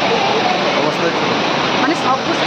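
Forceful cold water rushes at a temple site with Shiva lingams, a dense continuous roar of flowing water, loud and steady, with a voice faintly talking in the background.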